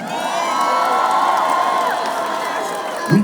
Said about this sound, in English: Please give me ladies a round of applause.